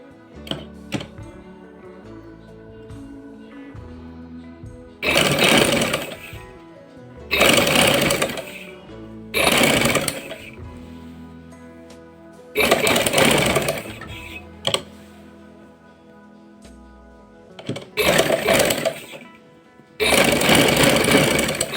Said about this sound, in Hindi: अब मैं इसकी सिलाई करूंगी।